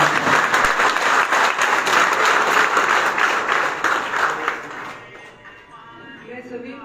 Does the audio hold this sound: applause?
yes